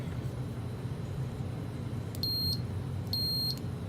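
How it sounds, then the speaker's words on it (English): A multimeter on continuity test gives two short, steady high beeps, about a second apart, over a constant low hum, with no talking. "this is basically just testing for continuity, so we don't have any shorts"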